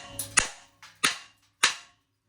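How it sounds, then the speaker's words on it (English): A hammer strikes an iron steering knuckle on a 2002-2005 GMC Envoy or Chevrolet Trailblazer during a ball joint replacement, three or four sharp metallic bangs spaced about half a second apart, close and loud with no talking. "We're going to bang on the steering knuckle part."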